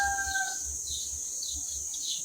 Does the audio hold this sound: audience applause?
no